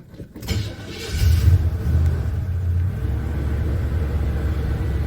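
A 1984 Chevy C10 truck with a carburetor cranks and fires up, then settles into a steady, close rumbling idle with no talking.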